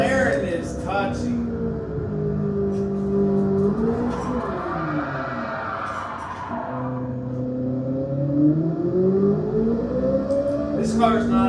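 Car engine in Gran Turismo 7, revving up and down through gear changes as it drives, loud and continuous with rising and falling pitch sweeps, under a voice talking.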